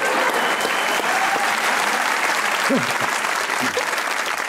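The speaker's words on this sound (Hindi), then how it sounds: "आप कुबरा खान के लिए एक बार तालियां होनी चाहिए।" Studio audience at a comedy talk show giving a sustained round of applause for an actress, dense and loud, with a brief voice cutting in near the end.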